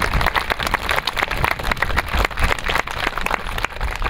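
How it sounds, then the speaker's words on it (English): An audience gives a steady round of applause for the week's videographers at a church gathering, dense overlapping clapping holding at an even level throughout. "Let's give them a round of applause"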